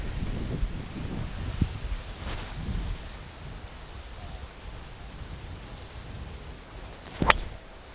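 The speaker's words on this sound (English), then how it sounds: "Oh, now it's getting windy." Strong wind sweeps across an open golf course, a steady broadband rushing and buffeting of the microphone with rustling gusts and one sharp knock near the end.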